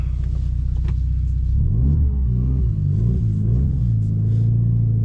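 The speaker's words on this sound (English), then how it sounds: "Guess we taking it to Redline now, huh?" A tuned Mitsubishi Evo engine idles loudly up close, then revs hard in rising and falling sweeps toward redline before settling back to a steady, throbbing idle.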